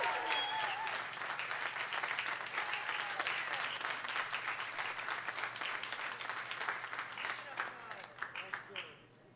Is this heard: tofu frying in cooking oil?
no